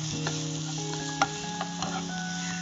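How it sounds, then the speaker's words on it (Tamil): Onions sauté lightly in a pan for chicken pepper salna, giving a steady soft sizzle with a few stirring scrapes and clinks, heard alone over a faint tonal background. "இப்போ ஆனியன் போட்டு லைட்டாக வதங்கிடணும்."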